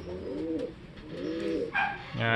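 Pigeons coo in soft, repeated throaty phrases close by, a few calls overlapping, with a brighter chirp near the end.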